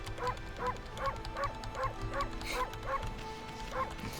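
A wolf character in the video game Okami HD barks in a steady series of about ten short, yippy bow-wows at a regular rhythm over soft game background music.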